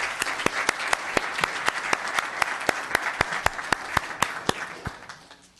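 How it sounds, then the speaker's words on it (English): Applause at a town council meeting, a small crowd clapping steadily for several seconds before thinning out and fading away. "Let's have another round of applause for Miss Laura Herron"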